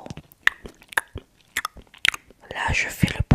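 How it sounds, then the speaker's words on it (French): Loud, wet open-mouth chewing made on purpose close to a microphone during a mic test, a run of smacking, crunchy bites with brief gaps and a soft breathy stretch near the end. "je fais le bruit du mec qui ne sait pas mâcher la bouche fermée"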